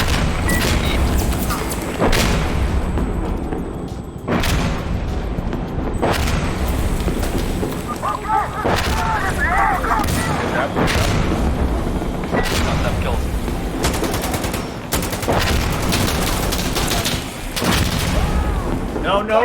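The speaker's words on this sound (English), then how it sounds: "Artillery on A," Heavy artillery barrage in the tactical shooter game Insurgency Sandstorm, with repeated deep booming blasts every couple of seconds in a dense, continuous roar of gunfire, while players talk over it.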